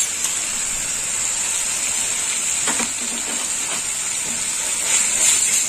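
Ginger garlic paste frying in a pan with prawns and vegetables, a steady hiss and sizzle running throughout at an even level, with a few faint clatters partway through.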